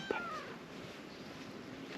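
A kitten in a rural northern Laos setting gives a short, faint meow near the start, then stays quiet against a low background hum.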